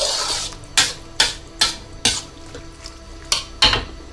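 Kway teow noodles being tossed and mixed in a wok, a series of about eight sharp metallic scrapes and clanks of the spatula against the pan, arriving in an irregular rhythm over a steady background hiss, close and fairly loud.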